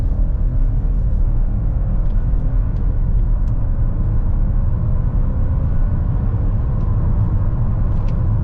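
A 2024 Chevy Trailblazer with a small engine and 9-speed automatic accelerates hard from 0 to 60 in sport mode, heard as a loud, steady in-cabin rumble and road roar that holds throughout.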